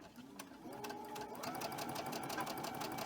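A sewing machine stitching quilt pieces, a close rapid mechanical chatter that starts with a few uneven stitches and settles into a steady fast run.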